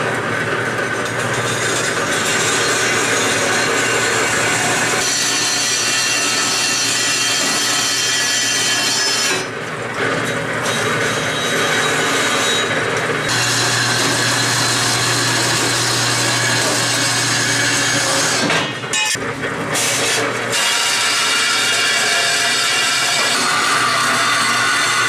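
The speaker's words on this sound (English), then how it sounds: "I think I'm going to chop it up initially in the bandsaw, and then for final in the circular saw." Band saw cutting wood for a removable RV kayak rack, a continuous loud buzzing rasp of the blade through the board with brief dips and shifts in tone as the piece is fed.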